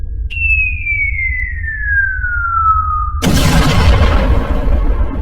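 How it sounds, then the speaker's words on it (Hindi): A high whistling tone glides steadily downward for about three seconds, then a loud firecracker bang bursts into a crackling, rumbling blast that fades slowly. "पटाखा फूटते ही"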